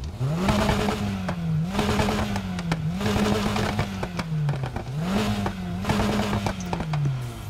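An aftermarket car exhaust in the racing video game Need For Speed Heat revs repeatedly in loud, evenly spaced bursts, the engine note rising and falling about five times in a row.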